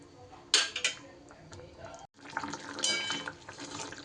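Water poured into pointed gourd (potol) gravy in a pan, a steady splashing pour with a brief clink of utensils near the start, then a second longer stream of liquid, close and moderately loud.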